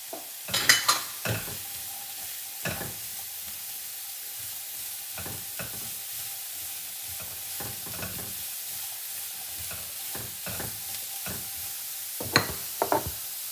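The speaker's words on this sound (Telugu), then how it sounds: "ఇప్పుడు జుకినీ పీసెస్ అండి, ఇవి జుకినీ వేసుకుంటున్నాము." Zucchini pieces stirred and frying in a pan for a barley dish, with a steady low sizzle under scattered scraping and clinking of a spoon against the pan, a few louder stirs near the start and end.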